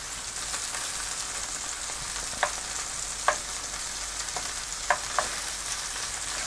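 Shrimp with plenty of garlic frying in a very hot pan, a dense even hiss of sizzling oil with a few sharp pops and crackles standing out, close and without talk.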